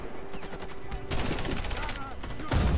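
An M99AS submachine gun fires in the video game Warface, a very high fire rate rattling in continuous bursts, close and loud, ending in a heavier burst.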